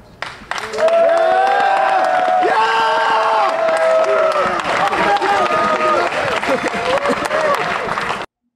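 A crowd at a high school football game cheers and applauds for the offensive line, with loud sustained clapping, whoops and shouted voices rising after a brief quieter start and continuing steadily.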